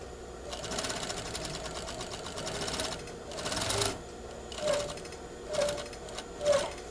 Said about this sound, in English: We're now going to stitch a 1/4 inch seam allowance.